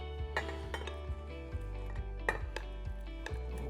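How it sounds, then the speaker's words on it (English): A casserole dish handled in a kitchen, with several sharp clinks and knocks of dishware and a set-down, close and distinct against a quiet background. "let's take our casserole dish."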